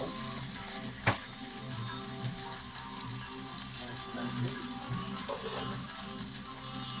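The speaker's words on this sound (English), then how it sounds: "So I'm going to drain off them now" Butter beans being drained, with a continuous close hiss and trickle of liquid running off steadily, a faint knock near the start and small splashy fluctuations throughout.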